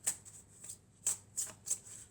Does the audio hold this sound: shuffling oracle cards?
yes